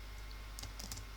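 A few quick, light keystrokes on a computer keyboard click close by in a short cluster, faint against a quiet room hum.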